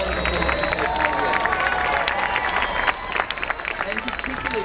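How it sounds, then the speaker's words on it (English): A large outdoor crowd at a marriage equality rally in Sydney Square applauds, dense clapping and scattered cheers filling the space, then thinning out toward the end. "A huge round of applause in Tasmania."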